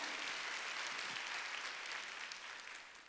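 A church congregation at a Wednesday worship service claps together in a steady, dense wash of applause, sounding somewhat distant and fading slightly toward the end.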